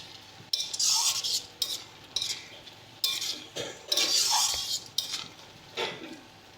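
Jute leaves are stirred into a cooking pan in a series of loud, close scraping and clinking strokes of a utensil against the metal, with a soft sizzle underneath.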